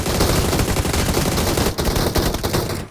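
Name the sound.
gunfire from a shooting video game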